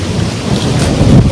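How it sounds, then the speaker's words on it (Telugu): Rain and gusting wind as a storm starts up in the Araku hill forest, a loud rough roar with rumbling low swells and rain hiss, close and continuous, without talk. "గాలి కూడా స్టార్ట్ అయిపోయింది గాయస్"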